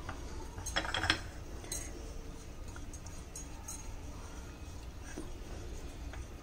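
A spoon stirs a little oil into a spice masala meant for stuffing tomatoes, giving soft scraping and a few light clinks near the start, then a steady low, quiet mixing rustle throughout.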